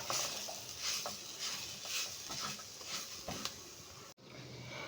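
A spoon scrapes and stirs a spiced mixture of beetroot, carrot, peas and mashed potato in a pan, giving soft, repeated scraping strokes at low volume with a faint sizzle beneath.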